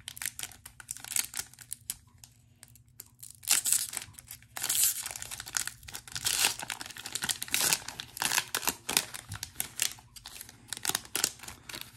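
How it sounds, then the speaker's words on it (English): Tearing open a 2024 Score-A-Treat Halloween football trading card pack, with crisp ripping and crinkling foil bursts over several seconds, close and fairly loud, followed by handling rustles, with no talking. "So it's time to get ripping and see what we find inside."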